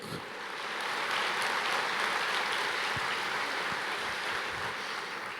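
A church congregation applauds during a sermon, a broad, steady wash of clapping from many people that swells in and holds without a break, fairly distant and with no voice over it.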